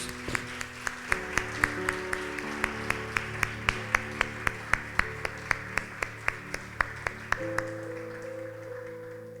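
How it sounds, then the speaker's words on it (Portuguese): A church congregation claps in a steady, rhythmic beat at a Portuguese-language worship service, sharp regular claps over sustained music, continuing for about seven seconds before the music changes. "Aplaude Jesus."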